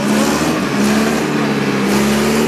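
A vehicle engine runs loud and close in humid, foggy weather, a sustained roar with a steady droning tone and slight swells in revs, with no voices over it.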